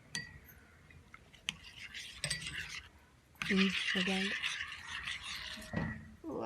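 Borax-and-water activator is spooned into Colgate toothpaste slime in a bowl, with light clinks, wet stirring and scraping, while a voice talks intermittently.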